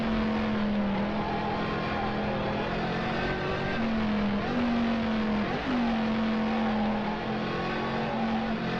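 The engine of a 1967 BMW Lola Formula 2 race car drones from onboard at the Nürburgring, a continuous close-up roar that rises and dips slightly as it shifts and brakes, with no talking.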